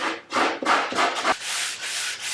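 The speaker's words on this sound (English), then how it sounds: "Piece of sandpaper, clean up this edge a little bit." Sandpaper rubs by hand along the edge of a wooden table, with four quick back-and-forth strokes followed by a longer, smoother scrubbing pass, all close and alone.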